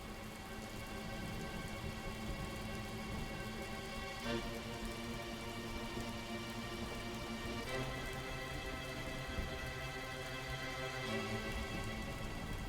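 Continuous, even rain after a storm has calmed, a dense steady patter on surfaces with no voices, holding at a constant level from start to finish.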